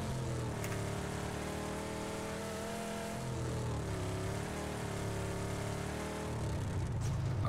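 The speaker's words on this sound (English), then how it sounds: "This car's so loud." Loud car engine roaring steadily while driving in the video game PUBG, a continuous droning motor tone that holds for the whole stretch with slight pitch shifts as it accelerates.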